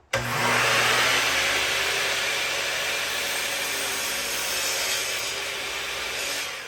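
A Festool dust extractor roars steadily along with a Bosch 12-inch dual-bevel glide miter saw, its hose jammed into the saw for dust collection, making a loud continuous broadband whir that starts abruptly and holds for several seconds.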